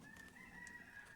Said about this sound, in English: not sure if you can hear that cockerel in the background.